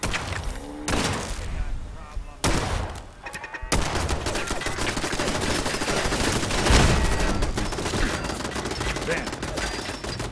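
Turret gunfire in the video game Fallout 4, starting as a few separated heavy shots then turning into a continuous loud automatic barrage that persists to the end, close and dense.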